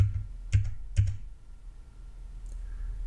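Two crisp clicks of the S key being pressed on a computer keyboard, close and distinct about half a second apart, followed by a faint click and quiet room hum.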